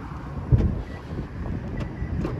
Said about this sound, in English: windy as fuck out here.